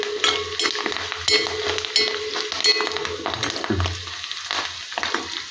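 Curry leaves dropped into a pan of gently cooking food for Kerala-style milk tapioca, sizzling and crackling steadily with clinks of a utensil stirring, close up and alone without voices.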